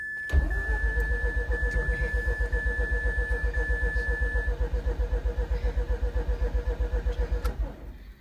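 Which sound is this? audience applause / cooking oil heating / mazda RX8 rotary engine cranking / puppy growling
mazda RX8 rotary engine cranking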